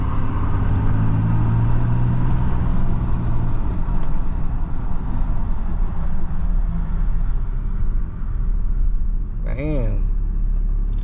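Dodge Ram 6.7L diesel pickup from 2014 to 2018 driving while its new front and rear brakes are bedded in, with loud, steady engine and road rumble throughout and a brief rising whine near the end.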